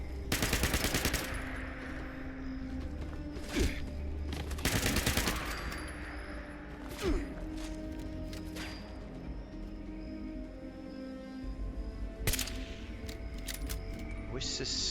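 Machine-gun gunfire from the video game Fallout 76 comes in several loud, rapid bursts, strongest at the start and around the four- and five-second marks, followed by scattered single shots and a later crack over a low ambient hum.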